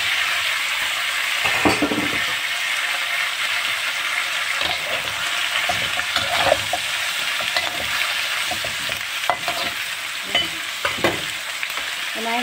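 Meat sizzles and fries steadily in a pan in a home kitchen, a dense hiss with occasional stirring scrapes and spatters, close and continuous with no voices.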